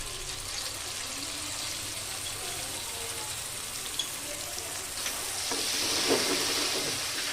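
Ground spice paste frying in a pan for a tangra fish curry with coriander paste, a continuous hissing sizzle that swells louder near the end as more liquid hits the hot pan.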